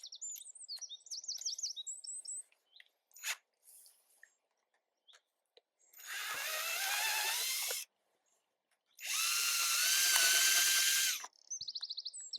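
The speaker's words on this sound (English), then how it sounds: "I'll just drill a couple of holes." A power drill boring into a solid old tree stump in two separate bursts of a couple of seconds each, loud and close, with birds chirping around them in a quiet outdoor setting.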